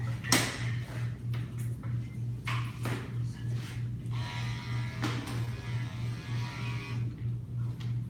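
Electric dog clippers run steadily close by while a goldendoodle is groomed, with a constant low motor hum under the whole stretch and occasional rustles and knocks from handling.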